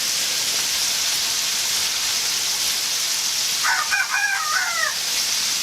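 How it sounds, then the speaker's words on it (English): An old rooster crows once partway through, clear but mid-distance, over a loud steady hiss of rattlesnake meat frying in a pan outdoors. "Talk to me, old rooster."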